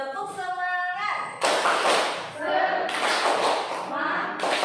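An Indonesian school class standing and doing the tepuk semangat clapping chant, bursts of group clapping and shouting loud and close, alternating with a teacher's voice calling the chant.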